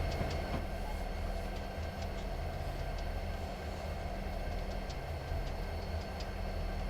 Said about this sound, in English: What is that train?